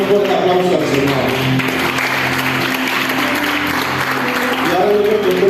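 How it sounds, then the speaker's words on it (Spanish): A church congregation applauding at a Spanish-language youth service, sustained dense clapping from a crowd with voices and tonal music running underneath. "Un fuerte aplauso al Señor."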